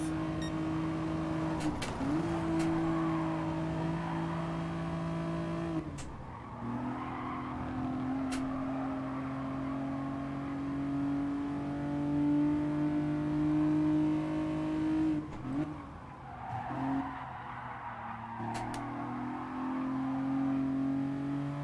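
Race cars in the Gran Turismo Sport video game, a sustained engine drone with shifting pitch as the cars accelerate and change gear, with brief squeals and drops in tone, continuous and moderately loud.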